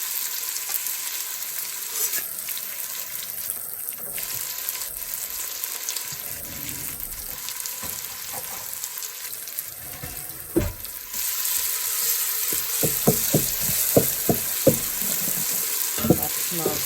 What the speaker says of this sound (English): I have finely chopped an onion, which I'm going to put in there, and I'm going to saute it for a little bit.